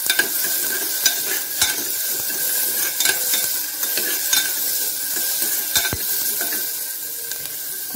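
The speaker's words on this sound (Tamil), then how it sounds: "தக்காளி போட்டு நல்லா வதக்கிக்கலாம்." Green chillies and tomato stirred and sautéed in a pan for a home-style lunch, a steady close sizzle with frequent spoon scrapes and stirring clinks throughout, no talk.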